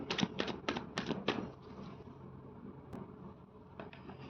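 Tarot cards pulled and shuffled from a deck, a quick run of crisp close flicks and taps at the start, then quieter handling with a few faint card slaps.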